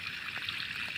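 Water trickles along a forest stream in the mountains, a soft, faint, continuous flowing burble heard briefly and alone.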